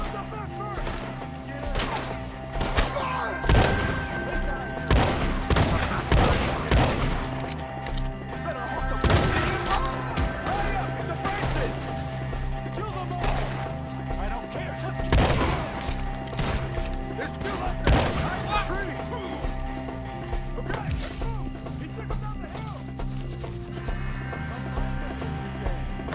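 A Red Dead Redemption 2 shootout, with rapid, irregular gunshots cracking near and far throughout, mixed with scuffles and shouting voices.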